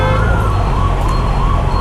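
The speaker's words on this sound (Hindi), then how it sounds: "एम्बुलेंस आ रही है क्या?" An ambulance siren wails steadily on the road throughout, its tone sweeping up and down over loud continuous traffic rumble, fairly close and prominent.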